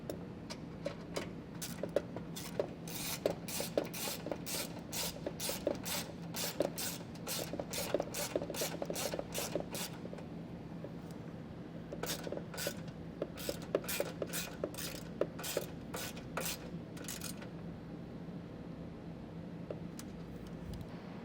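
A hand ratchet tightens a bolt on a vehicle's factory ground point, giving quiet, rapid clicking strokes in repeated bursts with short pauses between them, close and alone.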